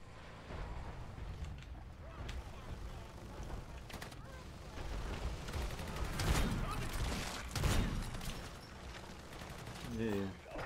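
Minigun fire in a video game, heard as dense rattling bursts mixed with game noise and swelling louder toward the middle, with voices talking over it throughout.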